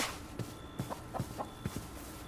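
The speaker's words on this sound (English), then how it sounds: "Shut up, chicken." A Minecraft chicken clucks softly in short, irregular bursts over a dim ambient game background, with faint footstep-like taps between the clucks.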